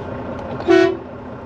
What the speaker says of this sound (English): please honk for entry